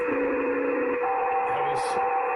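Spurious emissions picked up by a SunSDR2 PRO radio on 144 MHz, steady unclean whining tones with hiss that shift pitch briefly, plus short bursts of higher noise near the end.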